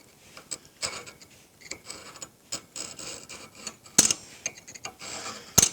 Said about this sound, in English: I'll finish scribing this out.